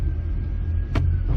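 A 2015 Chevy Camaro with a hard-shifting, limp-mode transmission idles with a steady low rumble, and a single sharp clunk cuts through as it is put into gear.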